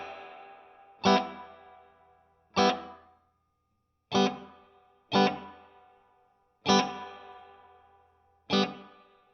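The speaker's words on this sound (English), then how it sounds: "Really nice sounding reverb." Six sharp guitar strums from a Nash S-57 guitar through a Two-Rock Studio Signature amp at irregular intervals, each followed by a lush, dense reverb tail that decays before the next hit.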